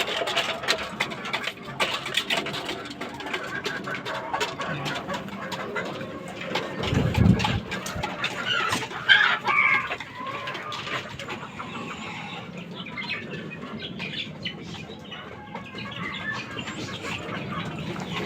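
Chickens, fighting roosters and hens, chatter and cluck steadily against a busy outdoor background, with a louder burst of activity midway and no talking.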